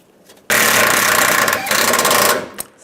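A power tool runs in a sharp, loud burst of about two seconds, driving a bolt into the power steering cooler bracket of a 2007-2013 Chevrolet Silverado 1500, then stops with a brief click afterward.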